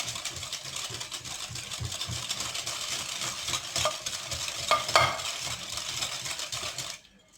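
A spoon stirs steadily through a thick mixture, with scraping, sloshing strokes at close range and no talking.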